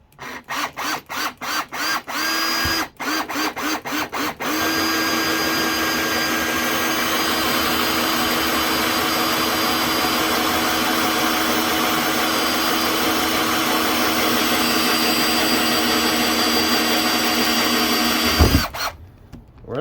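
A power drill bores holes in the rear bumper of a Ford Fiesta Mk7 for parking sensors. It opens with a rapid series of short trigger bursts, then a long, loud, steady whine runs close by until it stops abruptly near the end.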